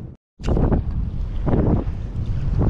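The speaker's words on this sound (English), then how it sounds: "Wind's a bitch." Strong wind gusts across the water on an ocean fishing trip. It is a loud buffeting rush with a few surging swells after a short silent gap at the start, and no speech.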